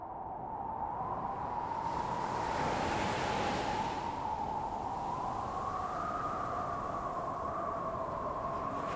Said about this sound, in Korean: 그들은 어마어마하게 큰 바다와 어둠 속에서 번들거리는 파도를 봤습니다